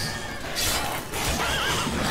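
A horse neighs in the Witcher 3 video game during a sword fight with monsters, a loud whinny rising over constant game noise.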